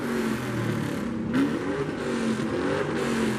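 A car engine revs steadily at a cars-and-coffee meet of supercars and muscle cars, its pitch rising and falling in sustained bursts, fairly close and loud with no talking.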